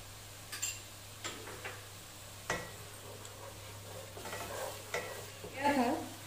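Whisked yogurt is stirred into a beef trotters paya curry, giving faint spoon scrapes and taps against the pot over a low simmering sizzle and a steady background hum.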